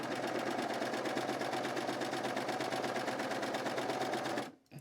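A serger sewing machine stitches a seam in a fast, even mechanical patter that runs steadily up close, then stops abruptly near the end.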